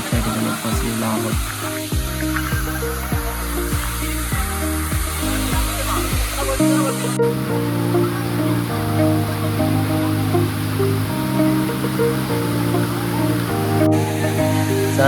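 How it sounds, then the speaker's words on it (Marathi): Bekare (Kolhe) waterfall near Karjat pours in a steady, loud broadband rush that stays constant throughout, with a musical soundtrack layered over the water. "आता आपण धबधब्याच्या मेन ठिकाणी पोहोचलेलो आहोत."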